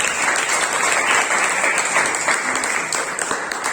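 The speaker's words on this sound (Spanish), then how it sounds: "Den un aplauso al Señor." A church congregation breaks into steady, sustained applause, a dense wash of many hands clapping together at full volume with no break for its whole length.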